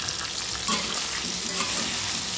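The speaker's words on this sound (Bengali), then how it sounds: "আমি এবার আলুটাকে ভেজে নেব" Potato pieces fry in a pan with salt and a little turmeric, giving a steady close sizzle and the scrape of stirring, with no talk over it.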